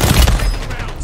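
Burst of gunfire in the Warzone video game, a loud close rattle of several rapid shots with a booming low thump over one second.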